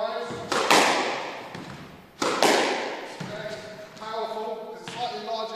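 A squash ball is struck with forehand drives using a Black Knight Ion Galaxy racket. Three sharp, close hits sound at a steady pace, each with a ringing court echo, and there is no talking.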